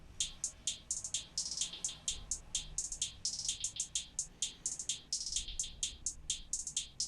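Two hi-hat parts layered together, one a halftime pattern made with a plug-in, form a busy, shimmering stream of crisp ticks in a bouncing groove over a soft low backing, with no voices.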